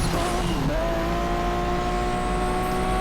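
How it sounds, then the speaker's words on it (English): Lamborghini V12 engine in the racing video game Asphalt 8 drones steadily and loudly, a continuous high-revving roar with a brief squealing pitch sweep near the start. "You know how the V12 sounds, right?"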